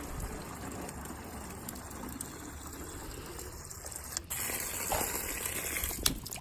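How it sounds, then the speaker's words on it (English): Water gushes from an outdoor barn spigot into a bucket used to soak horse feed, a steady close rushing stream with a few small knocks, and no voices. "My water spigot and filling that up just because I soak all my feeds."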